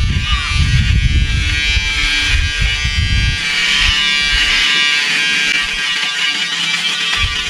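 A Braun electric shaver runs continuously while shaving a beard, a close, steady buzzing drone with rough crackling as the head cuts stubble near the start.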